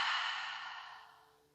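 A slow, deep exhale through the mouth during a beginner yoga breathing exercise, a single soft breathy rush heard close up that fades gradually over about a second and a half, with no talking.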